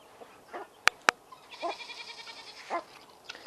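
Hungry goats on a farm bleat several times, with short calls scattered across the stretch amid sharp clicks and quiet background noise.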